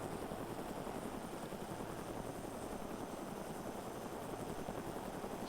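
A helicopter in a video game flies at high speed, its rotor thrum a steady, dense drone that stays constant and fairly faint throughout, with no voices.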